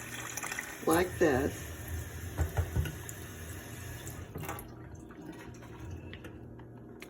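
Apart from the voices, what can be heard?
water poured into a microwave-safe container over an egg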